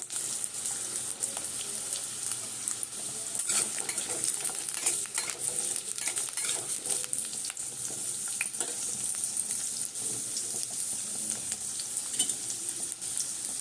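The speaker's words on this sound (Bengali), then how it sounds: "কুমড়ো, গাজর, এগুলো সমস্ত কিছু দিয়ে দেবো। একটু ভেজে দিলে আলাদাভাবে টেস্টটা ভালো আসে।" Pumpkin and carrot fry in a pan for a breakfast dalia dish, with a steady loud sizzle and frequent scraping and stirring clatter close by, and no talking.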